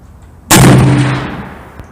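A single loud, sharp gunshot from a Smith & Wesson 460 Magnum XVR revolver cracks close by, then rings and decays over about a second.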